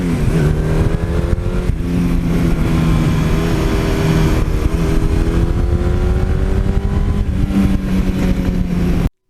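A Suzuki GS1100E motorcycle engine pulls smoothly while riding, a loud continuous inline-four drone with steady harmonic whine rising and settling through gear changes, with wind rush and no talk.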